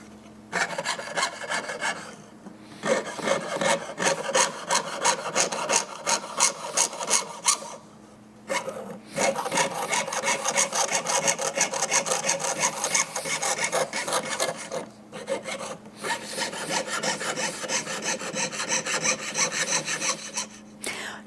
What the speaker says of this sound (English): cut it out with my jeweler saw